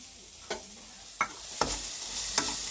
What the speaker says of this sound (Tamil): தேங்காய் போட்டு தேங்காய் போட்டு இது மாதிரி நல்லா கலந்து விட்டுட்டு